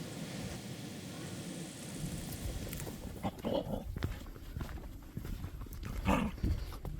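Dogs trailing hikers in the remote Albanian mountains give a few short barks and yelps amid outdoor noise and footsteps, close and intermittent, with some voices in the background.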